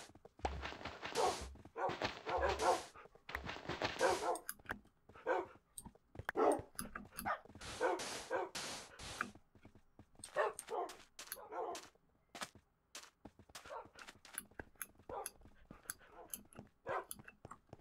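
A dog barks in close, sharp bursts, pausing between volleys, with a few softer yips, whimpers and some footsteps in between.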